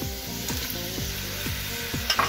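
Potatoes and corn (choclo) for a squash locro frying in a pot, a steady close sizzle with rhythmic scraping stirs about every half second.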